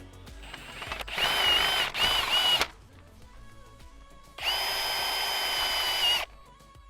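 Power drill driving screws into a portable privacy screen during assembly; two whirring bursts close together, then a longer steady run after a pause, loud and near with no talk.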